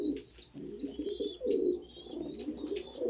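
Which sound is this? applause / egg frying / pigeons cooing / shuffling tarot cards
pigeons cooing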